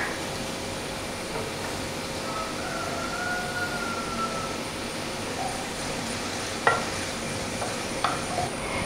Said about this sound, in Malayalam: ഇനി നമുക്ക് ഇതിനകത്തോട്ട് അരിഞ്ഞു വെച്ചിരിക്കുന്ന സവാള ചേർത്ത് കൊടുക്കാം. ഒന്ന് നന്നായിട്ട് വഴറ്റി കൊടുക്കുക.